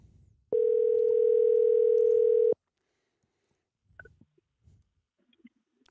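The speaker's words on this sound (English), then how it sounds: "let's get Jordan Jarvis on the phone" A telephone dial tone sounds as a call is placed, a single steady electronic tone lasting about two seconds, then cutting off into near silence broken only by a few faint clicks and murmurs.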